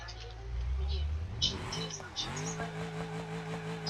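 A car in the BeamNG.drive video game drives along with a steady engine drone that shifts pitch as it revs and accelerates, with faint tire noise, under someone talking.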